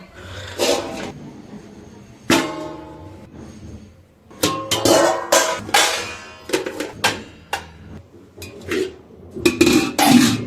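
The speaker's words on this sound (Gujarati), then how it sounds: "અને હવે છે ને ધોવાના છે ભાણા" Dishes, pots and pans being washed by hand produce loud, close metallic clanks and scrapes in irregular bursts, separated by short quiet gaps.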